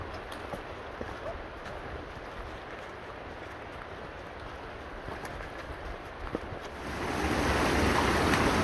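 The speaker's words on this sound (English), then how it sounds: "You hear the creek roaring over there beside us through the rhododendron." Otter Creek roaring through rhododendron in a West Virginia winter wilderness, a steady distant rush of flowing water that grows louder and fuller near the end, with faint footsteps and rustling.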